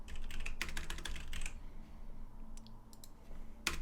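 Typing on a computer keyboard, a quick burst of clustered key clicks for about a second and a half, then a few scattered taps and a final sharp click, close and fairly quiet.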